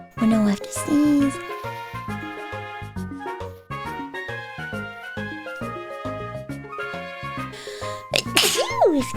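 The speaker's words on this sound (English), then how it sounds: "Oh no, I have to sneeze." A single sharp sneeze bursts out near the end, loud and close, following a stretch of tinkly background music.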